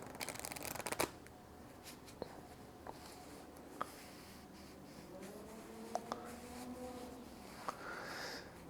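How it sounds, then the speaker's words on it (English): Playing cards are riffle shuffled during a magic trick routine, giving close, quiet riffling with crisp snaps as the packs are bent and released, along with soft handling rustle between them. "when I riffled about 10 cards or so with the face down pile before riffling the cards into one another"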